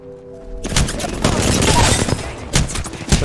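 Rapid gunfire bursts ring out in a battle royale video game, starting abruptly after a brief quiet lead-in and continuing loud and dense, with sharper shots near the end.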